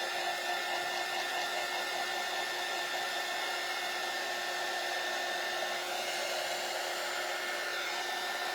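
A hair dryer blows steadily on a freshly painted Dollar Tree frame, a constant close, loud whooshing hum that runs unbroken without any talk.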